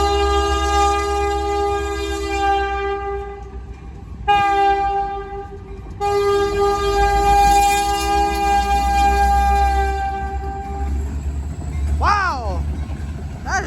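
A Canadian National freight train rolls over a rail crossing and diamond in Pembine, Wisconsin, its horn blaring in long, loud blasts over a continuous wheel rumble, with a voice talking over it.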